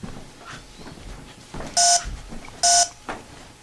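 A K2 EMF meter gives two sharp electronic beeps, each about a quarter second long and about a second apart, ringing out loudly over a quiet, hissy background.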